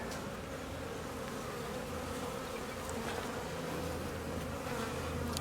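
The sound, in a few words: honeybees buzzing on a hive frame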